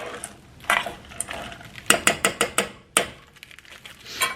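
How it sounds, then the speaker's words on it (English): A spoon stirs ingredients for peanut butter or chocolate fudge melting in a pot over medium heat, giving a run of close, sharp metallic scrapes and clinks in a quick uneven rhythm with no talk. "So we're just going to stir this up."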